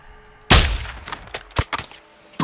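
A sniper rifle in Call of Duty: Modern Warfare 2 fires one loud, sharp close shot that rings out, followed by several quieter metallic clicks and thuds, then another sharp report at the end.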